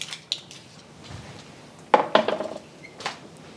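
Metal tongs clatter against a pan while flipping Asian-style sweet and smoky ribs, a few sharp close clinks and scrapes clustered together, with quieter taps before and after.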